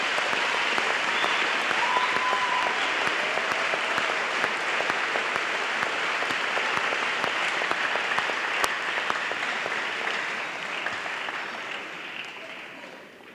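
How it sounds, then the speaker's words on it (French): A church congregation claps together in steady, dense applause during worship, loud and continuous throughout, fading slightly toward the end, with faint voices mixed in. "Acclamez. Clap."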